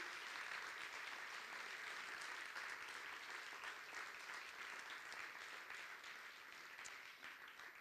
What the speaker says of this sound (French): Je veux sincèrement qu'on les applaudisse le plus chaleureusement possible